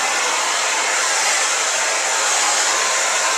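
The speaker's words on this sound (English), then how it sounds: "put the diffuser right in there, so it gets right in there to the braids to get them dry" A hair dryer fitted with a diffuser blows steadily on braided hair, a constant close airy whoosh with no pauses and no talking.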